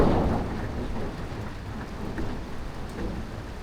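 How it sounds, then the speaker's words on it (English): Heavy rain pours steadily through a thunderstorm at night near an airport, a dense, continuous wash of close rainfall with a low rumble of thunder fading early on. "So the rain's getting heavier."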